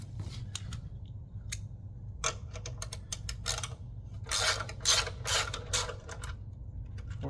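Wrench or ratchet work loosening a 14mm hex bolt on a Schwinn AC Power exercise bike generator, a series of sharp metallic clicks and ratcheting bursts over a low steady hum, close and fairly loud.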